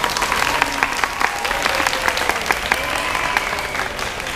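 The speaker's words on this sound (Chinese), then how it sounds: "请给我们未来校长一个掌声好吗？" Enthusiastic audience applause at a school concert evening at Nantou Junior High, a dense, loud wash of many hands clapping with sharp individual claps standing out, steady throughout.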